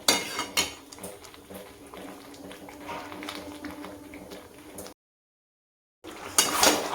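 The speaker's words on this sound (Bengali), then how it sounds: "এই দেখো, সমানে নাড়তেই থাকবো" Food being sautéed and stirred constantly in a pan over high flame, with metallic spoon scrapes and clinks against the pan under a soft frying hiss, a brief gap, then louder clattering stirs.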